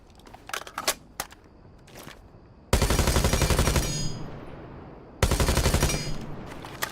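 A gun spraying automatic fire in a video game: a few scattered clicks, then two loud sustained bursts of rapid shots, each about a second and a half long and trailing off into echo.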